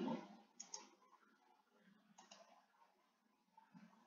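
Computer mouse clicking during work in Google Classroom and Google Form, a few sharp, soft clicks spaced irregularly against a quiet background.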